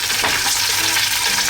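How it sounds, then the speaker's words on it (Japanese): Sesame oil sizzles and crackles steadily in a hot pan while being stirred over the flame, a dense, close frying hiss with small scraping stirs, no voices. "ごま油大さじ1、火をつけて軽く炒めます。"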